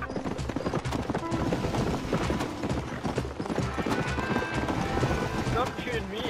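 A horse gallops in a multiplayer video game race, rapid rhythmic hoofbeats clopping steadily and loudly while players talk and shout over them.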